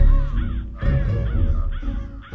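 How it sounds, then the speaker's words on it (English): Several crows caw loudly and close by, a string of harsh, rasping calls in quick bursts with short gaps, over a rumbling outdoor background. "Every day the crows would attack and squawk."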